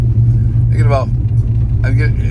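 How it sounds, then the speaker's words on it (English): A car passes along a quiet rural country road, a steady close low rumble that fills the short moment while someone speaks over it. "Uh-oh, we got traffic."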